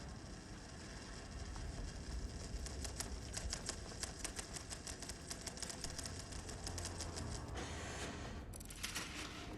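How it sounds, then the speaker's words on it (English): Typewriters clacking in the video game Alan Wake, a room full of them typing away in a dense, rapid run of mechanical keystrokes and clatter that continues for several seconds before a brief pause and another burst. "a room full of them all clacking away"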